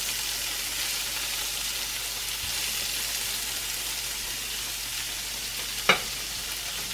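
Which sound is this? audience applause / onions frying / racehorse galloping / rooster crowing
onions frying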